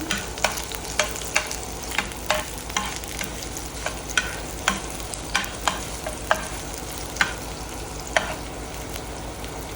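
Garlic and onion frying in a pan with five-spice seasoning, a steady sizzle broken by regular clinks and scrapes of a spoon stirring, close and alone without talk.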